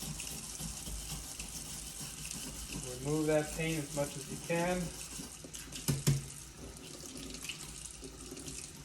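Tap water runs steadily into a sink while a paint brush is rinsed and worked with a wire brush, a soft continuous hiss with a brief splashy burst near the end, and a person speaks over it midway.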